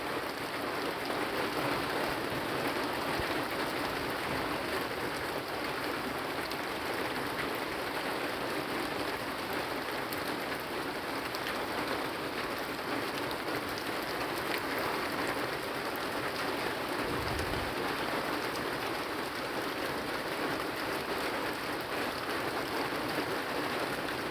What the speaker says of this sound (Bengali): তো দেখুন বৃষ্টি কীভাবে পড়তেছে